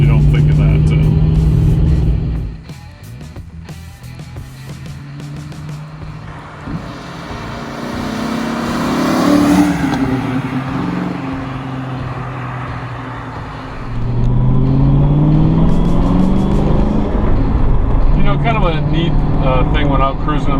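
A 1993 SVT Mustang Cobra drives along, its engine droning loudly and swelling and easing as the car moves, with a voice talking over the engine for much of the time.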